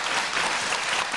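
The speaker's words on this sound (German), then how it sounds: "Applaus." A television studio audience applauds in a dense, steady burst of clapping that lasts about a second.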